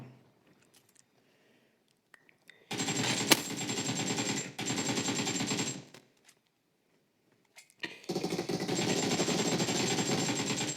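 An AK rifle fires in a video game in long, rapid automatic bursts, loud and close, in three sustained strings separated by near-silent pauses with faint clicks between them.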